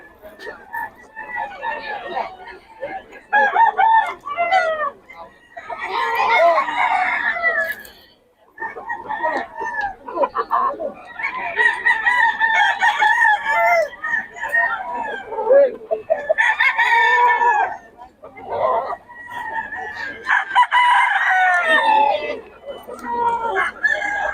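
Gamecock roosters crow at a market in Bocaue, with several long crows rising over steady talk and chatter from nearby sellers and buyers.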